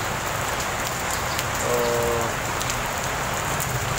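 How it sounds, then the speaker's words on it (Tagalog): Steady rain falls outdoors in the Philippines, a continuous, fairly loud hiss of drops on surfaces throughout, with a brief faint word spoken. "ulan."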